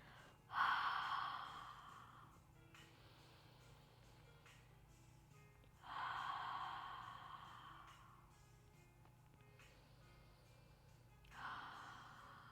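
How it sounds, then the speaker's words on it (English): Three deep breath cycles during a restorative yoga flow, each a long airy inhale through the nose flowing into a slow exhale through the mouth, close and soft with quiet pauses between. "let's stay here for about 5 deep breaths. Inhaling into the nose, exhaling through the mouth"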